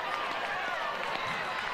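Crowd at an Oregon vs Stanford college softball game cheering after a hit, a dense, bright wash of voices and noise filling the short moment without a break.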